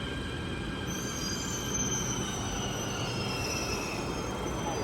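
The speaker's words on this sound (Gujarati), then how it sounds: "મેટ્રો આવી ગઈ છે." A Delhi Metro train pulls into the station with a steady rumble and a high, drawn-out squeal from its wheels, loud and continuous throughout.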